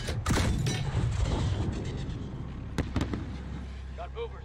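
A thrown grenade explodes in Modern Warfare: a loud blast opens the clip, followed by scattered crackling debris and a sharp crack partway through, with voices shouting over the combat.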